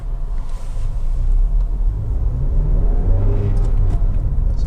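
A Hyundai i30 1.6 Comfort five-door is driving, with a steady, loud low engine and road rumble heard from inside the car and no voices.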